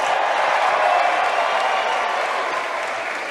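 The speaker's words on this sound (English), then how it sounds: "let's give both fighters a big round of applause" Crowd applauding both fighters at the close of an SSP 65 MMA bout, a dense, steady wash of clapping that fades slightly toward the end, with no talk over it.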